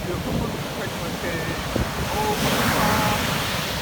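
Rough sea waves wash and roll at a beach on a summer day, a dense continuous surge with wind buffeting the microphone.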